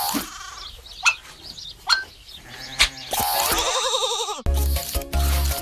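Cartoon sheep bleats from Shaun the Sheep, a few short wavering cries amid a busy, music-filled television promo with chirpy effects.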